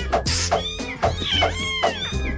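A cat meows repeatedly in a beer radio advert, five or six close, loud, whiny calls in quick rhythm, some rising and falling in pitch.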